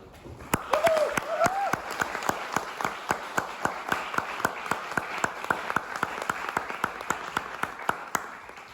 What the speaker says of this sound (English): So please, everyone, give a warm round of applause and welcome to the stage, Olesia.